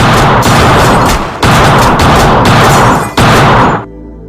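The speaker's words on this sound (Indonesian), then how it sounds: "tiba-tiba ia ditembak oleh anak buah Ale." A film scene set at a nightclub fills with loud, close gunfire in three long, sustained volleys split by short gaps, the last one cutting off into a fading tail.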